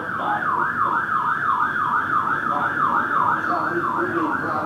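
A wailing emergency siren rises and falls in quick, regular sweeps, loud and close, continuing throughout over traffic noise.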